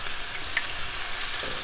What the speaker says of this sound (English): you can see that our meatballs are sizzling up nice